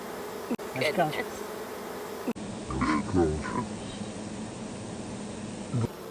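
Honey bees buzz around a split hive, a steady droning hum of many insects close by, with a few sharp knocks and handling noises breaking in.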